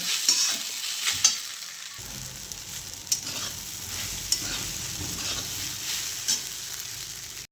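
A spoon scrapes and stirs sabudana khichdi sizzling in a pan, steady frying hiss with occasional sharp clinks against the metal.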